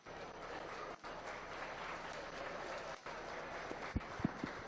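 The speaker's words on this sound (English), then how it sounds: "Let's make sure both those young men have a nice round of applause." Steady, loud applause from a crowded audience at a county fair swine show fills the whole stretch, with a few brief dips and some louder single claps near the end.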